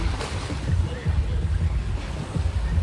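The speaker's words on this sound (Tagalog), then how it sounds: "May dalawang bangka naman parating." Two wooden outrigger boats draw near across an island lagoon at Bantayan, their low motor rumble steady beneath wind buffeting and lapping surf, with no talk.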